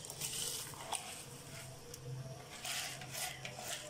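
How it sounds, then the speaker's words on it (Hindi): Rice grains go into a pot of boiling water for Arabian mandi rice, giving a soft pattering and bubbling with a few sharp clinks, steady and close, with no talking. "अब इसमें मैं चावल शामिल करूंगी"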